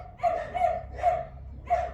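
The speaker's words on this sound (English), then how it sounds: "Somebody's walking by in front of the house, and the puppy dogs love to bark" Dogs at a house bark at a passer-by outside: three or four sharp, loud, close barks spaced evenly over two seconds, with no talking.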